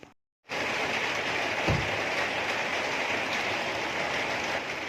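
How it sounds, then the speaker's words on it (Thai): Rain falls during a roadside tire repair, a dense, even hiss that starts abruptly after a brief gap and continues steadily, loud and close, with no voices. "ดังไปสักนิดนึงฮะเนื่องจากฝนตกนะครับ"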